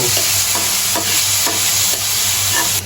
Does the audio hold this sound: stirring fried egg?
yes